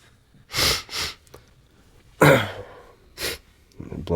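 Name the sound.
blowing nose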